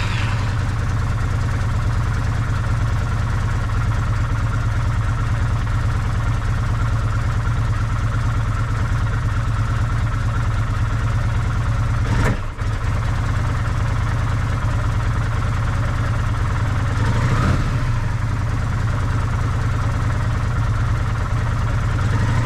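A 2000 Kawasaki VN800 Vulcan 800 Classic motorcycle idles steadily and close by, its deep, even engine throb holding constant. Two brief mechanical clicks or bumps break in partway through.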